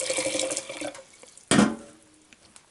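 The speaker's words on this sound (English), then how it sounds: "You pour the boiling water right on the spoon." Boiling water poured from a kettle onto a stainless steel spoon sitting in a glass jar, a steady splashing pour that cuts off, then a second louder gush of water hitting the spoon and filling the jar.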